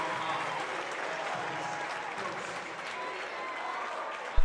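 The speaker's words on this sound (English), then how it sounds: "Ends on a high note, and listen to this crowd." Crowd cheering and applauding in a high school basketball gym after a playoff win, a broad wash of clapping and shouts held steady, with a sharp thump near the end.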